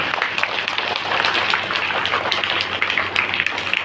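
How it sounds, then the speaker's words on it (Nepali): Students and guests clap at a school oath-taking ceremony for the newly chosen captain, a continuous patter of many hands lasting nearly four seconds, moderately loud in a large room, no one speaking over it. "एकचोटि जोरदार ताली सुप्रिया गुरुङको"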